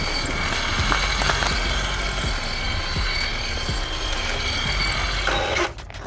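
A SEQURE 3625 brushless outrunner motor, 1800KV, driven by a 120 A ESC, runs with a spur gear that needs tightening. It gives a loud, steady whine with a rattling, ratchet-like gear chatter and stops abruptly near the end.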